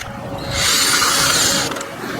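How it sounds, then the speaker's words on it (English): An 8mm socket ratchet works on a bolt on the top end of a GY6 150cc Chinese scooter engine, a loud close burst of mechanical turning lasting about a second, with a steady hum behind it. "This one is an 8mm socket to remove the bolt right here."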